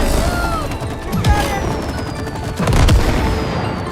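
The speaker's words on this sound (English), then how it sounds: "Combine the sap gun and the match gun to create explosions." Video game explosions from combined sap and match guns, several booming blasts and crashing impacts, two heavier bursts standing out over a busy layer of music and effects.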